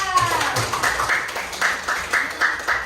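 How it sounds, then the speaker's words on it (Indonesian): Schoolchildren clapping in a classroom, a short run of rhythmic, evenly spaced claps from a small group, with a faint tone at the start. "tepuk tangan untuk Alan."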